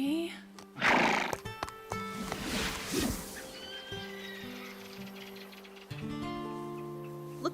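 A cartoon horse gives a loud, shrill whinny near the start, followed by snorts and hoof sounds over a soundtrack of sustained musical tones, with voices talking.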